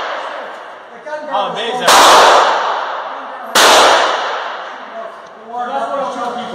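Two loud, sharp gunshots at a shooting competition ring out about two seconds apart, each decaying over a moment, with people talking and cheering in between.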